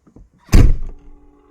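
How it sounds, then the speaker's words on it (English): Chevrolet Corvette C6 door shut once with a loud, close, solid thunk, followed by a faint whirring tone and quiet ticking as it settles. "If I now shut the door, it should drop down."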